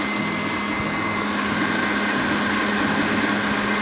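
An electric hand mixer whirs steadily as it beats mouskoutchou cake batter, a loud, continuous motor drone with no pauses.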